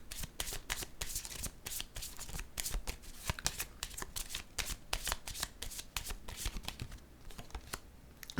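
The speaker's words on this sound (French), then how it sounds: "Là, je vais piger une carte rose." A deck of oracle cards shuffled by hand, giving a steady, close, rapid run of riffling flutters and soft slaps, continuous and alone without talk.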